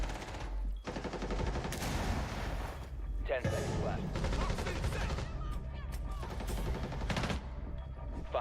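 Video game gunfire crackles in rapid bursts and sustained automatic volleys with booming impacts, dense and close over several seconds, while a player talks over the shooting.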